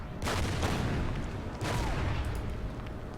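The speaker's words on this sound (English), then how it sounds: "Artillery here." Artillery fire in the war strategy game Order of Battle: two heavy booming blasts with rumbling low-end decay over a dense battle background, loud and close, no speech.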